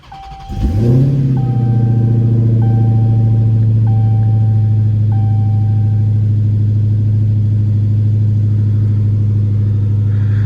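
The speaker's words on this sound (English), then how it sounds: "just listen to that engine come to life" A 2023 Dodge Challenger Hellcat engine cranks and fires with a loud rising roar, then settles into a steady, deep idle close by while a chime beeps at intervals, with no talking.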